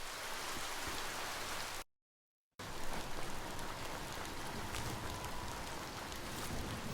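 Steady, dense rain hisses in the video game Biomutant, a constant wash of falling drops broken by a brief silent gap before the downpour resumes.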